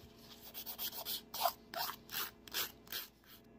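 Resin dip-powder nails shaped with a nail file: soft, close rasping strokes in an irregular back-and-forth rhythm, quiet and heard alone.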